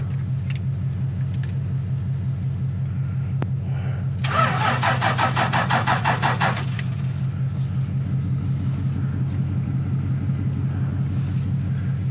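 A shop vehicle's engine cranks for a couple of seconds after a steady low idle-like rumble, then catches and settles into a continuous even running drone, with a brief light jingle early on.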